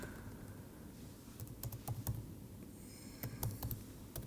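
Keys clatter on a computer keyboard in short bursts of typing with small pauses between words, close and fairly crisp, with no one speaking.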